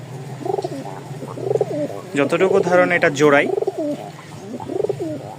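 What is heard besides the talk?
pigeons cooing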